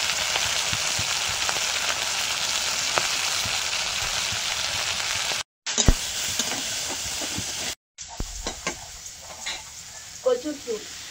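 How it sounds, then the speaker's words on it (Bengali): Prawns fry with salt and turmeric alongside onion, chilli and crushed garlic in a pan, giving a steady, close, crackling sizzle broken by a couple of brief gaps and stirring scrapes, with a voice faintly over the end. "এর মধ্যে চিংড়ি মাছ দিয়ে লবণ হলুদ দিয়ে একটু হালকা করে ভেজে নেব।"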